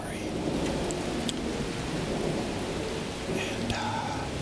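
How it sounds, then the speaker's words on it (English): Steady rain patters close by, falling from a nearby roof, a dense hiss of drops hitting a hard surface, with a few brighter splashes standing out. "This is just some rain that's a little bit closer to you, maybe falling from the roof next to you"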